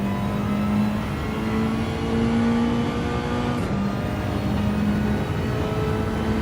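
A racing game car engine drones at steady high revs while the car slides around the track on dirty tyres, with a brief dip in pitch midway before the engine climbs again.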